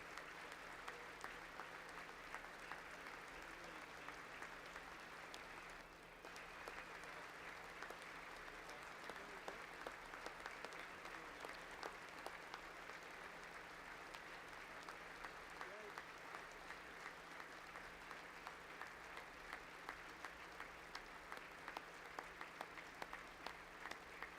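Sustained applause from a large chamber audience at the 2026 State of the Union address continues for the whole stretch, heard at a distance as dense, even clapping with voices faintly mixed in.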